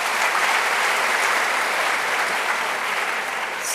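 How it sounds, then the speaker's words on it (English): An audience at a women innovators event gives a continuous, loud round of applause that lasts throughout, with no voices over it. "Can we clap for ourselves?"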